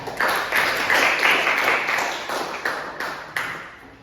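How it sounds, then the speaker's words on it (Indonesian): Students in a classroom burst into hand clapping that starts full and dense, then thins out with a few last scattered claps over about four seconds. "tepuk tangan"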